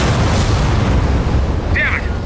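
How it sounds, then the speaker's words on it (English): Airstrike explosion in Gears of War 4 rumbles as a loud, sustained low boom with crackling debris, followed by a brief high warbling effect near the end. "We're gonna need an airstrike."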